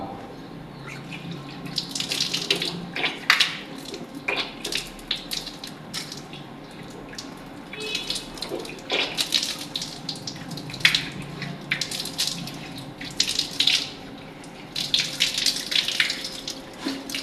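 Tap water runs during wudu, the ritual washing, splashing unevenly as hands and face are rinsed, with intermittent gushes and softer trickles close by and no talking.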